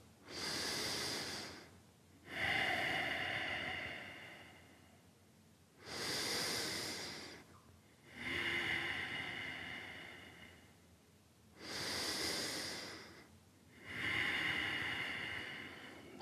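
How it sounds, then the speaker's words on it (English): Slow, deep breathing during an intermediate yoga practice, three long inhale-exhale cycles of airy hiss, close and unhurried with brief pauses between breaths and no talking. "A couple of breaths."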